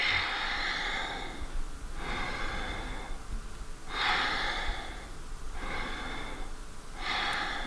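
Slow, deep breaths move in and out through the nose during a seated yoga stretch, each breath a soft airy rush repeating about every two seconds, close and clear with no talk.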